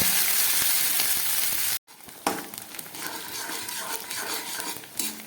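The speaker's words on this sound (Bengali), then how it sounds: "আদার মধ্যে আমি দিয়ে দিচ্ছি কিছুটা নারকেল এবার এটাকে খুব ভালো করে আমি ভেজে নেব" Grated coconut frying with ginger paste in a spice tempering for gobindobhog rice khichuri: a steady loud sizzle, a brief silent break, then crackling hiss returns with scattered stirring clicks.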